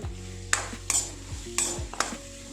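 Chopped dates are stirred in hot ghee in a pan for dry fruit laddoo: a spoon scrapes the pan in four or five sharp strokes over a soft, steady sizzle, close and fairly quiet.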